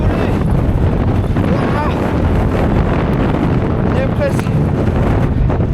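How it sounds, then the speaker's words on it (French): Strong mountain wind buffets the microphone near a summit as a constant loud roaring rumble throughout, with a person speaking French beneath the gusts. "Il y a tellement de vent, je suis en train de m'envoler."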